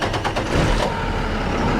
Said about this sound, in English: So I'm going to start up my vehicle and I'm going to charge the system just for a little bit.